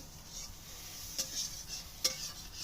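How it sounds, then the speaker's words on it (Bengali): Egg frying in a pan, a faint, steady sizzle with two sharp clinks of a utensil against the pan. "আমার জন্য ডিম ভাজা করছে"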